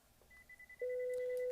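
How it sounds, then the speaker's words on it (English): A desk phone on an office phone system rings an extension after it has been dialed. A faint tone is followed by a loud, steady ring tone that starts partway through and holds to the end, with no talking. "His phone's ringing."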